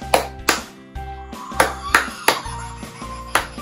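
Sharp single hand claps at irregular intervals, close and loud, meant to trigger a WowWee Grimlings spooky interactive Halloween toy, with faint electronic tones from the toy between claps.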